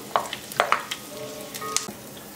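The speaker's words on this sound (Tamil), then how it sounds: "முந்திரி பருப்பும் ஃப்ரை பண்ணியாச்சு." Cashew nuts fry in hot oil under a soft steady sizzle, broken by a few sharp clicks of a spoon against the pan.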